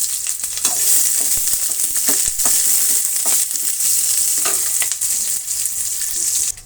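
Thick-cut onions and green chillies fry in a hot pan for bread upma, a steady close sizzle broken by scraping stirs, with no voices.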